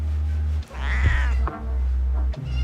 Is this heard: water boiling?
no